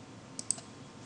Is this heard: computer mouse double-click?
yes